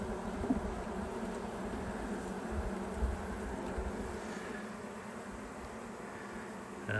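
Honey bees buzz steadily and densely around an open hive during an inspection, a continuous close drone with a few faint knocks from handling the frames.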